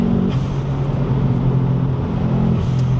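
A Subaru Impreza rally car engine rumbles steadily with a low, continuous drone and slight pitch shifts, loud and close throughout.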